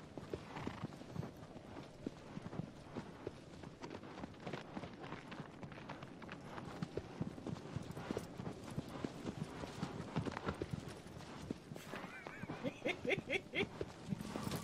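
Horse hooves clip-clop in the Shadow of the Colossus remake, a quick steady rhythm of hoofbeats on the ground with an occasional whinny, at moderate volume and heard alone.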